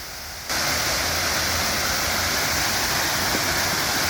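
Paradise Falls in Lost River, New Hampshire, cascading into a basin below, a loud steady roar of rushing water that starts abruptly after a short quieter moment and holds on without a break.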